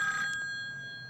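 A telephone rings indoors, a brief electronic bell tone with sustained tonal ringing that fades out within about a second, with no voices.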